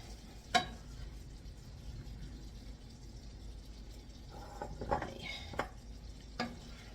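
Ground beef stir fry with cauliflower rice being scooped from a pan, a few soft scraping and clinking scoops spaced apart over a quiet, low background hum.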